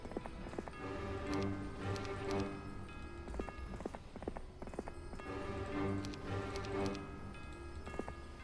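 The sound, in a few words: horse hooves clip-clopping in Heroes of Might and Magic III video game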